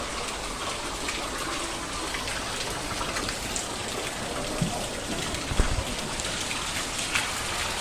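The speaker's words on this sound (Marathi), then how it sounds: "इथं बघू शकता पूर्ण पावसाचा दिवस आणि येत जात आहे पावसाचा" Steady rain falls, a continuous hiss of drops on surfaces with a few louder splashes, no voices.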